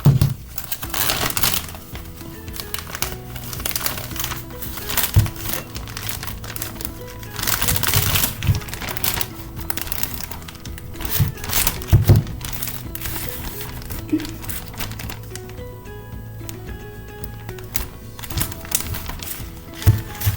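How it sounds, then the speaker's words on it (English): A plastic bag is closed around a small bean-seed ecosystem, a dense run of crinkling and rustling plastic with occasional soft thumps, close and fairly loud. "Put the ecosystem inside the plastic bag and close it."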